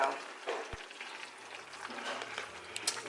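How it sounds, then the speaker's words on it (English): Sausage is stirred in a crowded frying pan, a faint steady sizzle under scattered scraping strokes and a single sharp knock near the start, quiet and close with no talk. "mix the sausage in really good."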